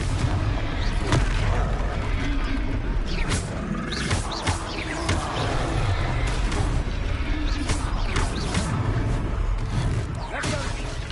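A fire spell in a Harry Potter video game bursts into loud booming explosions amid a steady wall of battle noise, with repeated sharp blasts and whooshes across the stretch.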